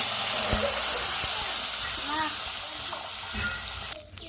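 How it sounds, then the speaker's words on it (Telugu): Tamarind juice is poured into a hot tempering in a pan for beetroot pepper rasam, giving a loud, steady hiss and sizzle that runs unbroken for several seconds and then cuts off abruptly at the end. "తాలింపు అయితే బాగా వేగింది కదా చింతపులుసు పోసేసుకున్నాం"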